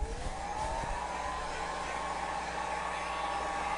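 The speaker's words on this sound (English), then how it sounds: "Hang on, I got to get my heat gun." Heat gun blowing hot air at close range, a steady loud whoosh with a rising motor whine, running continuously with no talk.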